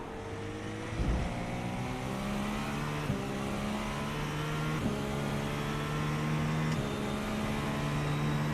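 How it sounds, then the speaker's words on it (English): Sports car engine in iRacing humming at steady revs, with turbo wastegate chatter and faint tonal whine running throughout, a few brief clicks along the way. "That Wastegate sound"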